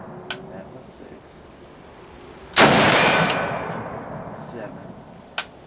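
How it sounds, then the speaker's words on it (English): A rifle fires one loud, sharp shot midway that rings out and decays over about a second. Near the end, the empty clip pops out with a brief, bright metallic ping, and faint clicks come earlier. "When the clip is empty, the clip pops out and it goes ping."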